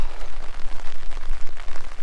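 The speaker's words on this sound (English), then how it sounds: "It's still raining" Rain falling steadily after a storm with downed trees, a dense close patter on surfaces with low rumbling gusts, loud and continuous with no voices.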